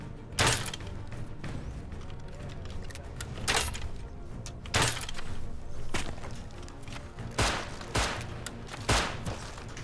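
Gunfire in the survival game Rust: a scattered volley of sharp, loud shots, some in quick pairs, crackling over a low rumbling game background with no talk.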